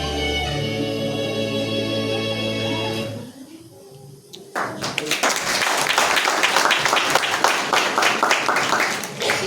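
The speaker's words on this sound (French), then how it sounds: "Encore plus fort, s'il vous plaît. Est-ce que vous pouvez applaudir, s'il vous plaît?" Audience applause at a wedding ceremony bursts in after a sustained musical passage and a brief lull, dense clapping staying loud and steady to the end.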